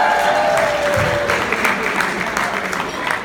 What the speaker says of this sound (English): Let's first start off with an applause for the gorgeous bride.